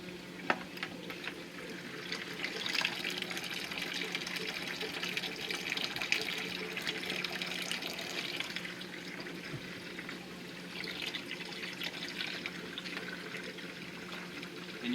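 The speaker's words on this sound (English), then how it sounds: "And you'll hear it gurgling as it drains." Water rushes and gurgles steadily in a continuous bubbling flow as a Navien tankless water heater drains, fairly quiet and unbroken throughout.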